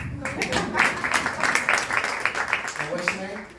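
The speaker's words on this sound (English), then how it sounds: "Oh, I gotta clap it up for you." An audience claps for a fifth grade teacher, a short burst of crowd applause heard close and fairly loud, with voices mixed in toward the end.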